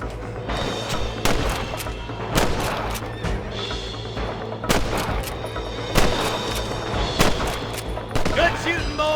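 Gunfire in the video game Red Dead Redemption: repeated sharp rifle and pistol shots crack at irregular intervals, some close and loud, some farther off. Voices talk between the shots.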